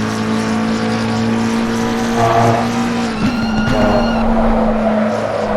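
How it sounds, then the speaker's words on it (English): A race car slides through a corner on the Red Bull Ring in a racing sim game, its steady engine drone running throughout while brief tire squeal and scrubbing rise in the middle, loud and close. "I'm trying to push and the car's starting to slide."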